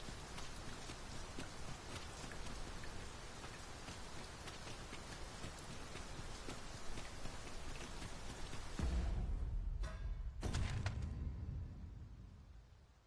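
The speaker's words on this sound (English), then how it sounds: "It is raining cats and drakes. We cannot hope to wait it out." Steady rain falls in Dragon's Dogma 2, a constant close hiss of drops on surfaces that runs throughout, joined near the end by a few louder thuds.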